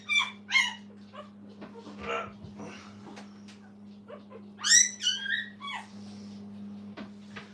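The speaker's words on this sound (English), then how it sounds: "you hear fussing here from the little liver one" A newborn liver-colored puppy in a kennel litter fusses with thin high whimpers and squeaky yips in short bursts, over a steady low electrical hum, with faint background noise between cries.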